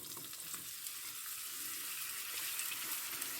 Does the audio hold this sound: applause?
no